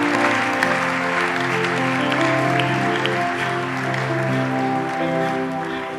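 A church congregation applauding loudly and continuously, with sustained tonal music or voices running underneath the clapping throughout.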